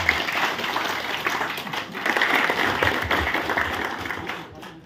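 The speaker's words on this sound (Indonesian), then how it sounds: "Ya tepuk tangan untuk Pak Mano ya." An audience applauds with dense, continuous clapping that swells and fades out near the end, voices mixed in.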